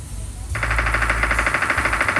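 Rapid gunfire bursts in Call of Duty Mobile in quick succession, loud and sustained, starting abruptly after a brief quieter moment.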